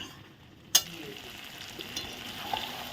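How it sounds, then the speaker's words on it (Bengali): Meat and potatoes being stirred and fried in a pan, with a steady soft sizzle after a sharp clack of the spoon near the start and faint scraping stirs throughout. "এখন ভালো করে নেড়ে চেড়ে আরও কষিয়ে নেব মাংসটা"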